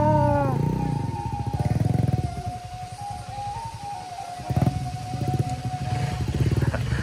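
Honda Sonic motorcycle riding through deep mud on a rural hill road, its engine revving and labouring in rough pulsing bursts, close and loud, with a few voices and other noises faintly in the background.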